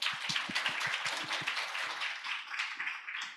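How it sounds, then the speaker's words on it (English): Participants at a global policy dialogue applaud one another, opening with quick, close, rhythmic handclaps that blend into a broader patter of clapping from the room. "Why don't we take this opportunity to give a round of applause to one another"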